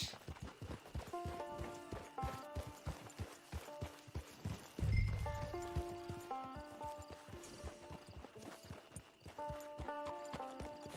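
Rhythmic horse hoofbeats clip-clop steadily at a walking pace in Red Dead Redemption 2 Online, with a brief horse snort or whinny partway through over light tonal background music.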